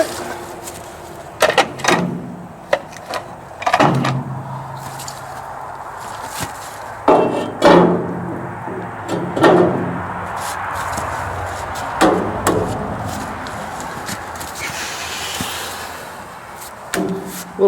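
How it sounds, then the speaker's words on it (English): Sledgehammer bumping a piece of pipe into place during restoration work, several sharp metallic knocks spaced irregularly over a steady background hum, close and fairly loud. "A little bump with a sledgehammer and that'll go right in there, I believe."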